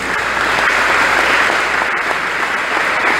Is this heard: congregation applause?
yes